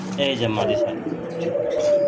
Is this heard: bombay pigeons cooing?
yes